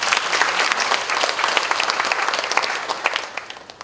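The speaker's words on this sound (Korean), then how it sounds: "박수 한번 쳐주시죠." A hall audience breaks into sustained applause at the opening of a university welcome meeting for incoming students' parents, dense clapping from many hands, fairly loud and steady, tapering slightly toward the end with no speech over it.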